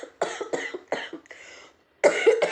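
A woman with a cold coughs in a run of close, harsh bursts, pauses briefly, then lets out another rough cough.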